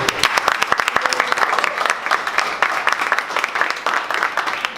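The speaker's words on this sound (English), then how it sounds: "can we get a round of applause for Devin?" A room full of people applauds, dense clapping holding steady and fairly loud for several seconds without anyone speaking.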